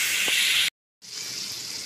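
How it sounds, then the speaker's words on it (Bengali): Water pouring into a cooking pot for a mung dal stew with katla fish head and gobindobhog rice, a steady close gush broken by a brief pause before flowing again. "এর মধ্যে দিলাম আমি জল"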